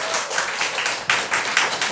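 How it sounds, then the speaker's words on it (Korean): A church congregation claps for the children during a Sunday service, a loose, uneven patter of hands with a few sharper bursts, moderately loud and fairly close. "우리 자녀들을 위해 큰 박수 해주시기 바랍니다."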